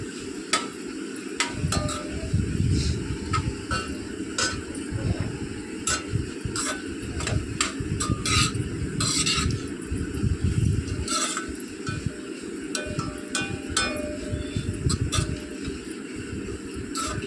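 Noodles tossed and stirred with salt, turmeric and chaat masala in a bowl, giving a steady run of scraping and clinking utensil taps against the dish, close by and without talk.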